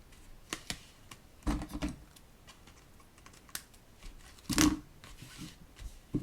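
Paper trimmed for a handmade card, a series of short dry clicks and crisp cutting snips, some louder and clustered, with quiet gaps between them.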